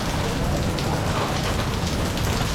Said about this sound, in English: that is the rain coming down